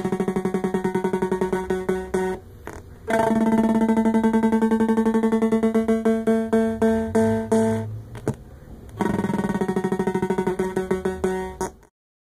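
Guitar run through a littleBits microphone bit into an oscillator, giving a synthetic arpeggiated effect with buzzy, pulsing tones in repeating phrases, loud and continuous with brief gaps before fading out.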